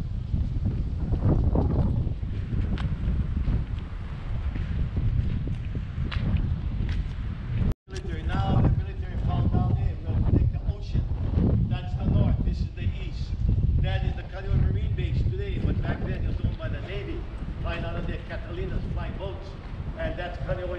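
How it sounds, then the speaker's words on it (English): Strong wind blowing outdoors at Kualoa Ranch on Oahu, buffeting the microphone with loud, constant gusting roar, while a guide talks over it throughout. "It's a little windy."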